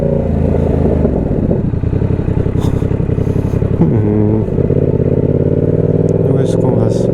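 Yamaha R7 motorcycle fitted with an Austin Racing exhaust, its engine running loud and steady throughout with a deep rumbling tone and a brief shift in pitch midway, heard close up without talk.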